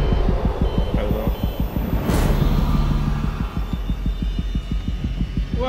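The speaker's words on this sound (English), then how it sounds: "why can I hear your heartbeat" Steady, rapid heartbeat thumps pulse in the Alien Isolation video game, a regular throbbing rhythm over a low hum with a brief whooshing burst midway; no one talks.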